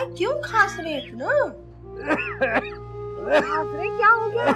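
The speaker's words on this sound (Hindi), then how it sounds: "अरे क्यों खांस रहे इतना?" A man coughs in several rough bursts in a Pakistani TV drama scene, mixed in with close conversation from other voices.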